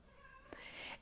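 A pet cat gives a short, quiet meow in a room, a single faint call over low background hiss.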